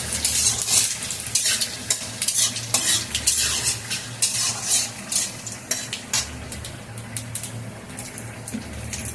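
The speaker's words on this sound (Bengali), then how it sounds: "এবার জিরে দিয়ে দিলাম তেলে।" Cumin seeds and torn bay leaves fry in hot oil, giving a steady close sizzle with frequent scraping and clinks of a spoon stirring against the pan.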